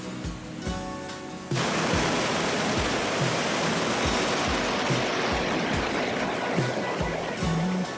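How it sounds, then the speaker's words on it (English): Waterfall at DeSoto State Park in Alabama's mountains, swollen with winter runoff, pours as a loud, steady broadband roar close by. It swells sharply after the first second and keeps rushing unbroken, with faint low thumps underneath. "We definitely got good waterfall this time."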